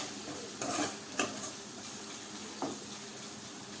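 Green chickpeas stirred and sizzling in hot oil, a soft steady fry with a few brief scraping strokes of a spoon against the pan.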